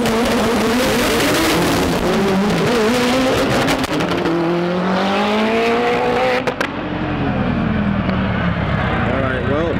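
Lamborghini drag racing at TX2K21, a loud engine screaming up through gears close by with rising revs and shifts, a voice talking over the roar throughout.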